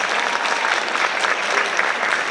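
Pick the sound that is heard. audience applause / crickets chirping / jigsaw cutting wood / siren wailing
audience applause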